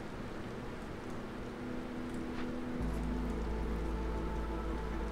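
Steady rain from a storm in the video game Against the Storm, a dense continuous patter that holds at an even level throughout, joined partway by a low steady hum underneath.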